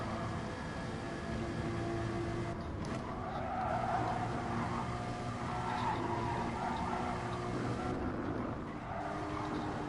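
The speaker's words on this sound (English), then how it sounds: "This car just slides." Race car tyres skidding and squealing on the Nordschleife in a racing video game, a steady engine drone under long sliding screeches, moderately quiet with no talk.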